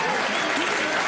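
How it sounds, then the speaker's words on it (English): A studio audience at a late-night talk show applauds in a steady, dense wash of clapping, heard briefly at moderate level. "before we forget about that applause"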